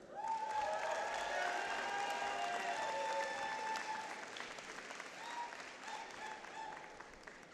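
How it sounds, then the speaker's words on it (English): Families and friends at a spring medical school commencement applaud and cheer. Dense, loud clapping runs steadily for about four seconds with whoops and shouts, then thins to scattered claps and calls. "enjoyed each individual round of applause and shout out from families and friends"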